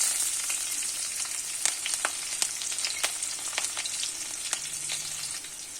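Finely chopped green chilies and cumin sizzling in desi ghee, a soft, steady hiss broken by scattered sharp pops and crackles, fairly quiet and close.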